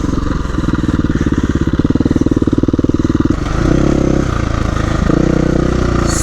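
A 2018 KTM 350 EXC-F dirt bike engine runs close and loud, a steady rapid thumping idle that rises into a heavier, fuller rev partway through and stays throbbing, with no talking over it.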